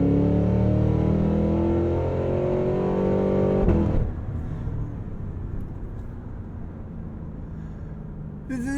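Cadillac Escalade V engine revving hard and accelerating, a loud, close roar for several seconds that then drops away to a quieter cruising hum.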